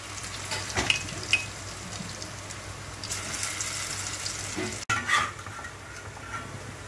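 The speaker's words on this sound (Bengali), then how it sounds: "সব দিয়ে পেঁয়াজের পকোড়া করছি" Pakoras of onion, boiled potato and green chilli deep-fry in hot oil with a steady close sizzle and bubbling, broken by a few light clicks and a brief knock.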